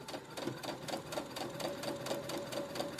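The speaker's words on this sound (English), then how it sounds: "And keep sewing until I get close to the next pin." A sewing machine runs steadily while stitching the seam of a pillow cover, giving a fast, even mechanical chatter of needle strokes that stays close and continuous throughout.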